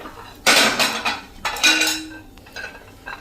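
A small tempering pan of hot ghee takes a pinch of asafoetida with a clattering metal spoon, sharp clinks and scrapes in two close bursts followed by a faint hiss, with no voices.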